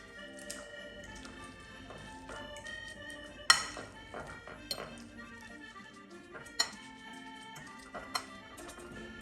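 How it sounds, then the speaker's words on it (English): Raw steak tartare meat mixed with two forks in a bowl, giving a run of light metallic clinks and taps at uneven intervals, with a few sharper scrapes standing out, close by and moderately quiet. "Now you can add the meat and mix well with 2 forks."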